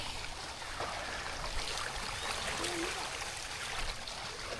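Water runs through a pipe channel built for hikers on a mountain trail, a steady, fairly faint flowing hiss that continues throughout with no talk.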